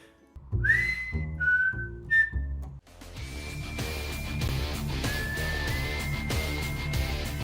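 Sharp rising whistle notes, short and repeated, followed by a longer sustained whistled tone over a dense, loud backing of music from a Wes Anderson film soundtrack.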